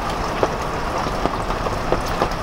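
Steady rain falls without pause during a very wet day, a dense even hiss with faint scattered drip taps throughout and no talking.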